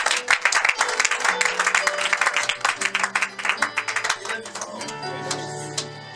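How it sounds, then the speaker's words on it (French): A church congregation claps in a burst of dense applause that thins into scattered claps, with sustained musical tones and voices underneath. "On acclame le Seigneur"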